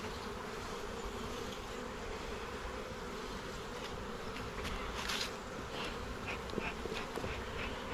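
Honey bees shaken from a hive frame make a dense, steady, close buzz that stays loud and continuous throughout, with no voices.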